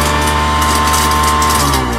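An industrial garbage disposal in a closed medical facility runs steadily, a loud, close, continuous mechanical hum and grind with a constant pitched tone and no pauses or voices.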